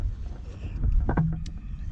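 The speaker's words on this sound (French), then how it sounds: "Il y a un petit peu de vent" Wind buffets the microphone with a low rumble throughout, a brief faint tone cutting through midway.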